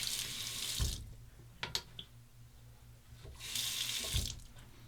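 Tap water runs into a bathroom sink as a razor is rinsed, with a steady hiss for about a second, a few light clinks, then a second rush of running water near the end.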